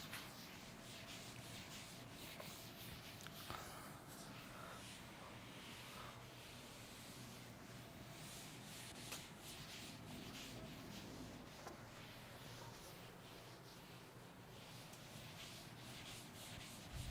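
A board is rubbed clean with a duster or eraser, a soft, steady scratchy swishing that continues for the whole stretch at a low, even level, no talking.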